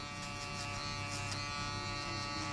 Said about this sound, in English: I'll use my shaver.